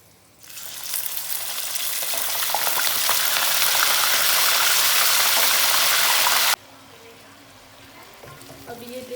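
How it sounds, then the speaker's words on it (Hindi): Frozen fatty beef chunks hit a hot karahi pan, bursting into a loud, close, hissing sizzle that swells and holds for several seconds before cutting off abruptly to a quieter background. "अभी सबसे पहले मैं इसमें डालूँगी ये गोश्त।"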